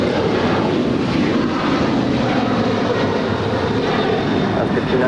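An eleven-year-old Airbus A330-200 airliner is heard at LAX as a loud, continuous broadband engine roar, steady throughout.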